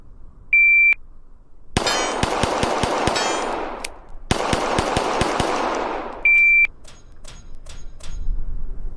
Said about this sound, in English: That is me practicing with a pistol I've never used before and using iron sights